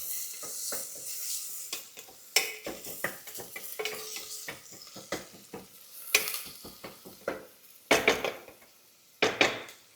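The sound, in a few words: onions and green chili frying in a pan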